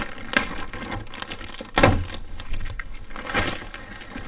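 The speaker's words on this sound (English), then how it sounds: "so you can go ahead and pull this tape off" Plastic bag and tape being handled on a Chanson Miracle M.A.X. water ionizer, close crinkling and rustling with a sharp tearing peel in the middle and softer scrapes around it, no voices.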